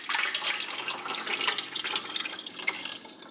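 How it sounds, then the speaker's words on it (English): Tomato sauce pours from a very large can into a big pot, a continuous close splashing and gurgling stream of liquid for several seconds, no voices. "So I'm gonna pour this in here."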